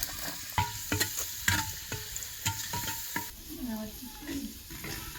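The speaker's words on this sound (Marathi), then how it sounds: "आता फुडणीसाठी एक पळी तेल वतायचं एक कांदा चिरला हे ह्यात टाकायचं" Chopped onion dropped into a ladleful of hot oil for village-style mutton tempering, frying with steady sizzle and repeated sharp stirring clinks against the pot, close and moderately loud.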